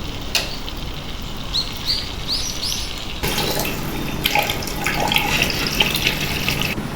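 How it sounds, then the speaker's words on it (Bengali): Hot water is poured into a pot of thin khichuri: a quiet kitchen for the first three seconds, then a sustained, splashing gush of liquid filling the pot until the end. "এখন আমি গরম পানি ঢেলে দেবো"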